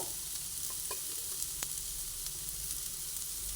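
Potatoes stirred in hot oil in a frying pan, a steady sizzle of frying under faint scraping and stirring, with a sharp clink of the utensil partway through; no one speaks.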